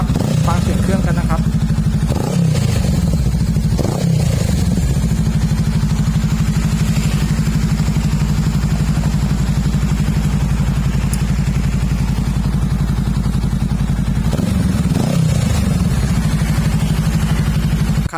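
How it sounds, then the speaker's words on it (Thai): A black 2018 Honda Rebel 500 motorcycle with custom styling and 7,200 km on it runs close and loud. Its engine holds a steady throbbing idle for the whole stretch, with a couple of quick throttle blips near the start and again near the end. "ฟังเสียงเครื่องยนต์นะครับ"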